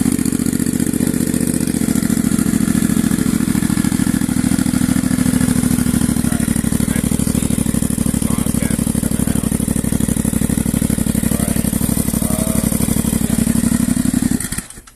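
A Yamaha FZ-07 motorcycle fitted with a DIY eBay turbo runs steadily nearby, its engine drone loud and constant until it cuts off at the end.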